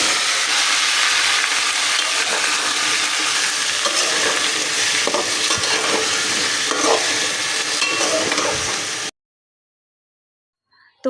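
Vegetables fry in hot oil seasoned with panch phoron, dried chili and bay leaf, giving a loud, steady sizzle with occasional stirring scrapes for about nine seconds before the sound cuts off to silence.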